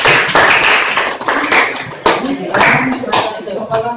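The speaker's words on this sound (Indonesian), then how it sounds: "Tepuk tangan dulu untuk kelompok 4." Students in a classroom clap for a presenting group, a loose burst of hand claps and taps of uneven rhythm from a small crowd, close by and fairly loud, with some voices mixed in.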